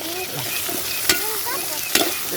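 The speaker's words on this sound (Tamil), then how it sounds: "நல்லா வதக்கணும்." Drumstick pieces stirred and sautéed in a pot for prawn and dried-fish curry, a steady close sizzle with two sharp scrapes of the spoon against the pot.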